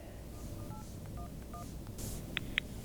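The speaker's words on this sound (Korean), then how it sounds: "안내된 번호로 직접 전화를 걸어봤습니다." A phone number is dialed on a telephone keypad during a call to a phishing loan number. Several short, quiet beeping tones come at uneven intervals over a faint background hum, followed by a couple of sharper clicks.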